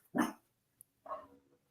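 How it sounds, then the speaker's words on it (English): Dog barking indoors at night, two short separate barks with a brief click between them, fairly close and alone without talk. "No, that's my dog barking."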